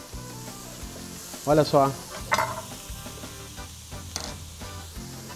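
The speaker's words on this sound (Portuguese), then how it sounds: "esse barulho é maravilhoso, né? Cebola dourando, o aroma mais interessante da cozinha." Chopped onion browning in a hot pan for a paella campeira gives a steady, close sizzle that runs the whole time, with a brief spoken remark over it partway through.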